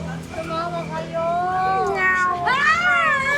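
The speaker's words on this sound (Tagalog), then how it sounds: "Di may pusa, ate." A cat meows repeatedly at close range, with drawn-out, wavering cries that rise and fall, the last one louder and more insistent, over a low background hum.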